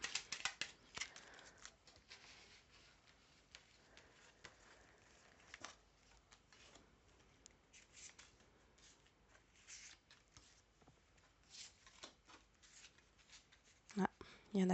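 Tarot cards being reshuffled by hand, a soft run of riffling and sliding card sounds with brief pauses, close and fairly quiet, with a louder flurry near the end.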